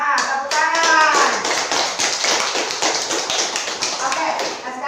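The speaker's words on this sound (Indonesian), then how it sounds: "Tepuk tangan." A classroom of children claps together, dense rapid hand claps filling the room with voices mixed in throughout.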